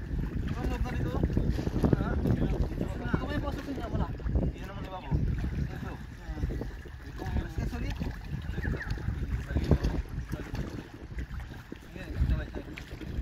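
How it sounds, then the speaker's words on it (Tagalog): A fishermen's boat engine drones steadily beneath wind buffeting the microphone and water noise, with people talking in Filipino over it throughout. "Ay, nagana ng bangka yun."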